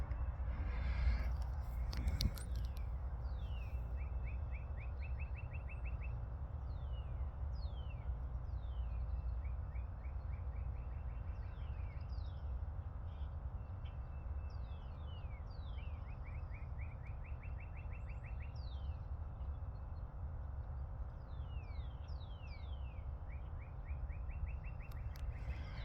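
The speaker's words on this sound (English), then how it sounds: "just listening to the birds" Birds sing in a backyard, repeated short chirps and trilled phrases recurring at intervals over a steady low background rumble, moderately distant.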